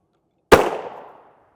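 A single suppressed subsonic 350 Legend round fired from a 16-inch Ruger American rifle: one sharp, close crack with a short fading tail into silence.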